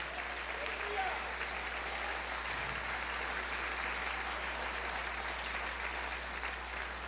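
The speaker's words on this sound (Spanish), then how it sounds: "Dale un aplauso al Rey en esta hermosa mañana" A church congregation applauds on a Sunday morning, a steady, moderately loud patter of many hands clapping together in a reverberant room, with a low hum underneath.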